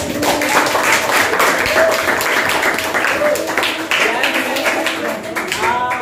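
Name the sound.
class applauding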